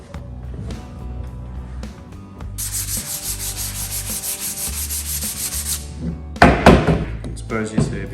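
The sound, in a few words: sanding charred shou sugi ban timber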